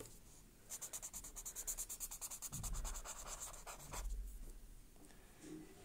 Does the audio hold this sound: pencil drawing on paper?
yes